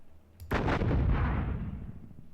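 A single loud artillery gun fires in the wargame Panzer Campaigns Minsk 44, a sharp boom followed by a long rumbling decay that fades over about two seconds.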